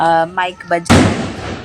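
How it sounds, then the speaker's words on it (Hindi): A burst of firecrackers goes off during a Ganpati immersion festival, a sudden loud crackling blast that follows a few words of speech and then rolls on as a dense, noisy wash. "तो गणपति विसर्जन के लिए पटाखों की आवाज़ आ रही है"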